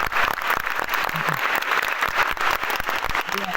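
Children and onlookers at a school sports day clap for a race winner, a steady, continuous round of applause from a nearby crowd.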